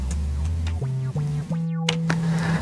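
A synthesizer preset named Horsey plays a short run of stepped, buzzy tones with a gritty, distorted edge, rising in pitch across several held notes, with a brief filtered sweep near the end, loud and alone without any talking.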